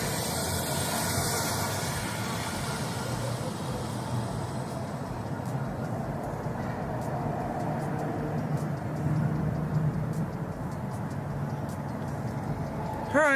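Cars pass by outside as a low, continuous road rumble and hiss, distant and steady, with faint swells as vehicles go by and no one talking.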